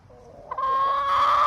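Pet chickens clucking close by, a soft single call followed by a louder, sustained drawn-out squawk that rises and holds.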